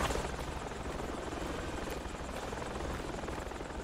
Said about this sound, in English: How do you get to the chopper in this place?